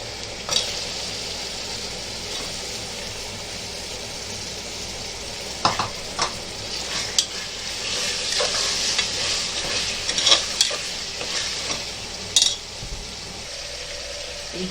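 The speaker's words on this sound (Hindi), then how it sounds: "गोश्त को अच्छे से भूनेंगे।" Mutton frying and being stirred in ginger garlic paste while cooking methi gosht, a steady sizzle with repeated scraping stirs and clatters throughout, fairly close and alone without talk.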